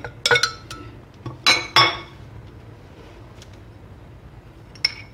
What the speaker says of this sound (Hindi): सबसे पहले हम लोग अपने जार में दही डालेंगे उसके बाद सफेद मिर्चें धनिया सॉरी पुदीना और लहसुन ये सारी चीज़ें डाल देंगे